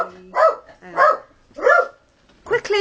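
A pet dog barks four times in sharp, separate bursts, close and fairly loud, with short quiet gaps between barks and the last bark sounding slightly more whiny.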